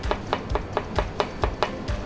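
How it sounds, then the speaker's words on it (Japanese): Kitchen knife slicing vegetables on a cutting board for coleslaw, a steady run of about nine crisp, evenly spaced cuts, close and clear with no talking. "包丁の先を使ってねどんどん切っていきます。"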